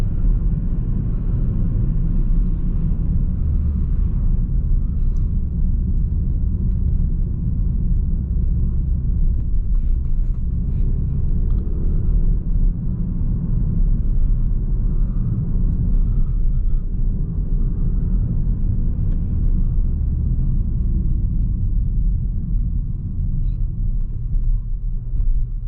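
A car's engine and automatic gearbox drone as a steady, loud low rumble from inside the moving vehicle, holding an even level for the whole stretch with no clear surge or gear shift.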